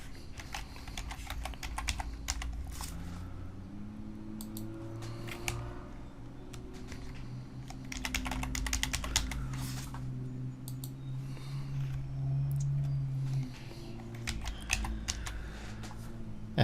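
Text being typed on a computer keyboard in bursts of rapid, close key clicks, broken by short pauses over a steady low hum, with no voices.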